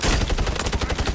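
Rapid automatic gunfire in a ranked shooter video game, a dense rattling burst of closely spaced shots, loud and continuous with no talk.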